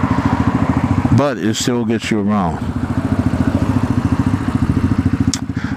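A Venom X22 motorcycle with a small 125cc engine idles steadily and close, its rapid, even putter running throughout while someone talks over it briefly.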